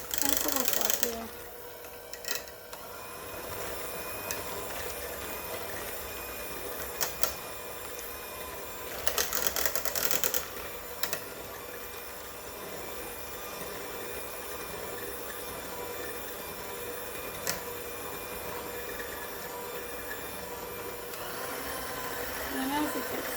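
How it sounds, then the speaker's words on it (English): Electric hand mixer whirring steadily while it beats ingredients in a bowl for a roasted Brussels sprouts recipe, a constant motor hum with a few brief clatters. "I like to use the hand mixer for this."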